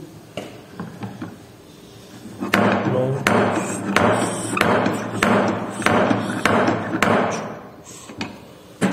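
Repeated sharp taps of a Casagrande cup dropping during a soil liquid limit test, about a dozen evenly spaced thuds over a low room hum, close and fairly loud after a quieter opening.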